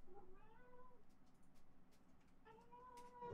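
A house cat meowing indoors, two drawn-out, rising-and-falling meows about a second apart, faint and close-sounding in a quiet room.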